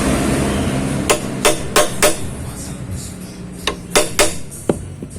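Metal hammer blows on the front disc brake bolt of a Honda Vario scooter, about ten sharp clanks in an irregular cluster, loud and close over low background noise.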